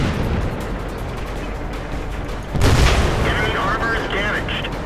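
A tank cannon shot in the tank battle video game World of Tanks, a single loud boom that rises suddenly partway through, with rumble carrying under a steady background of game noise and music.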